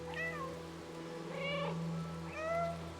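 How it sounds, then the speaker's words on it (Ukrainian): A cat in the video game Stray meows three times, short and clear, over a steady low game hum. "Я мяукаю."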